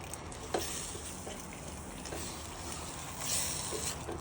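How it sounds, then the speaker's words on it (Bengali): Chicken sautéing in oil in a clay pot, with a steady close sizzle and fry hiss throughout and a few short scraping knocks of stirring, no voices. "ভালো করে কষাতে হবে। এই তো কষানো হয়ে গেছে।"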